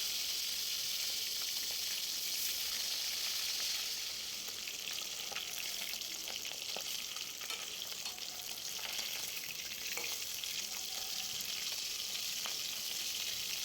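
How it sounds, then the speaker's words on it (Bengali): Pieces of katla fish fry in hot oil, giving a steady, even sizzle and crackle at moderate level throughout, with no voices. "এরপর তেলটা গরম হয়ে গেলে মাছগুলো আমি একে একে ছেড়ে দেব।"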